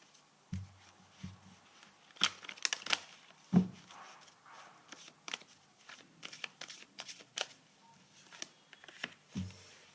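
Tarot cards are handled and laid out on a surface in a quiet room, giving soft scattered rustles, crinkles and light taps with short pauses between them.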